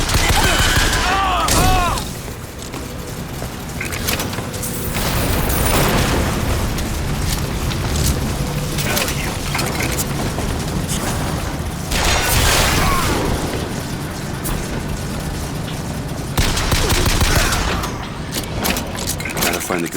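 Dense, sustained video-game gunfire and explosions from BioShock Infinite, loud and nearly continuous bursts with booming impacts, while characters shout over the battle.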